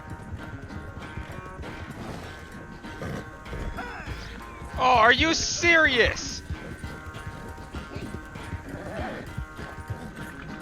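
Horse hooves clip-clop in Red Dead Redemption 2 gameplay, a steady rhythmic trot under frequent talking, with a horse whinny rising briefly in the middle.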